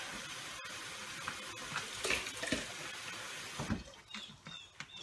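Tap water runs into a cooking pot while a crayfish boil is prepared, a steady faint splashing stream with a few clinks, no talking.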